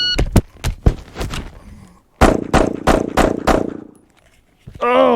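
Handgun fired with the support hand only, two quick strings of sharp close shots, several in rhythmic succession, separated by a short pause, with brief voice after.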